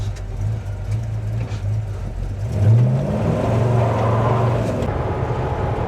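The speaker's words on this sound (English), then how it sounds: "so we're in the truck, taking it for a test drive now" A 1935 Ford hot rod truck engine rumbles low and steady on a test drive, swelling into a louder rev partway through and then settling into a sustained drone.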